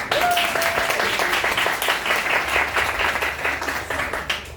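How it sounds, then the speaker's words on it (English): A crowd at a Pint of Science talk applauds a volunteer called on stage, steady close clapping from many people lasting the whole stretch, with a brief tonal whistle-like sound near the start. "Can I have a round of applause, please?"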